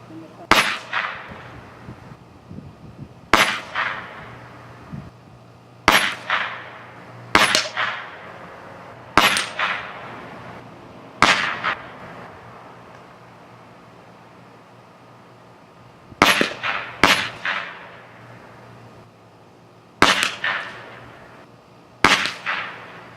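A Bully .30 caliber air rifle firing 50 grain pellets at 2x4 boards, about ten loud sharp cracks spaced a few seconds apart, each with a short ringing decay.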